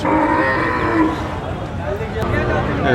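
A red Sahiwal bull at a busy cattle market gives a long, loud, close moo, with crowd chatter in the background.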